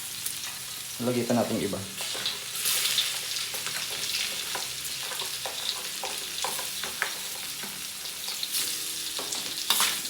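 Garlic and chili sizzle loudly in a hot pan after fried tilapia, a steady crackling fry with occasional stirring scrapes, while a person speaks briefly over it.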